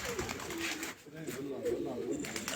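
Racing pigeon that has flown 11 races, cooing in soft low repeated phrases on a rooftop, with a voice talking over much of it.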